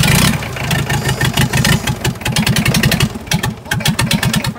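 A diesel tractor engine with its glow plugs just heated fires and runs in a rough, loud, close chug with a rapid, uneven knocking pulse that keeps going throughout.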